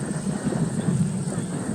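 An aerobatic airplane pulling a high-G maneuver at the New York air show in Orange County makes a steady, rumbling engine drone in the middle distance, with a faint tone running above it and an announcer talking over it.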